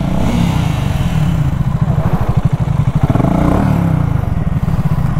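A 650cc motorcycle, apparently the BSA Goldstar 650, pulls away in first gear with a loud, close, thumping single-cylinder exhaust beat that quickens as it accelerates, wind buffeting over it.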